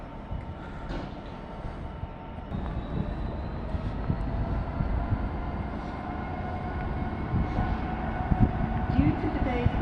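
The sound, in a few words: train arriving at Doncaster station platform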